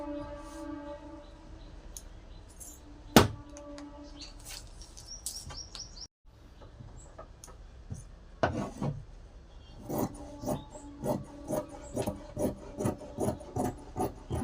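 Scissors snip through blouse fabric pieces in a repeated, steady rhythm of close, crisp cuts, with rustling cloth and faint bird chirps in the background.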